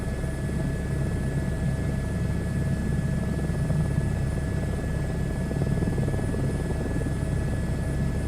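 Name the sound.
H125 helicopter flying in a flight simulator video game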